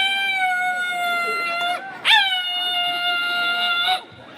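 A small dog howls in long, drawn-out wavering tones, with a brief break before a second sustained howl, loud and close.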